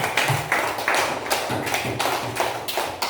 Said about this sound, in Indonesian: Beri aplaus untuk Danu karena sudah berani